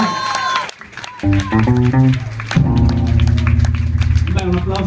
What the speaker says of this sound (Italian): Un applauso al nostro Mulmino.